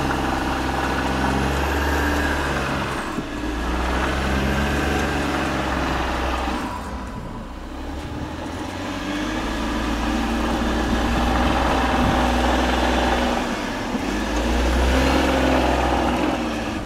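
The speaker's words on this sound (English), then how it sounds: "Then the engine sound changes and the wheels get more power, and now all wheels of the Audi are spinning" An Audi Q8 SUV climbs a steep slope, its engine droning loudly and continuously while it surges and eases as the wheels slip and spin, with a brief dip midway before the strain builds again.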